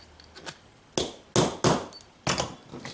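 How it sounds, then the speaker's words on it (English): Heavy hammer blows drive out a wheel bearing and spacer on a Honda 300TRX FourTrax ATV, several loud close metallic strikes in an irregular rhythm with brief gaps between them. "Move up to a mega hammer here."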